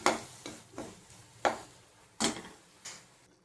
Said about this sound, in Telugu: ఇప్పుడు టమాటాలు కూడా వేసేసాను. ఓకేనా, తిప్పేస్తున్నాను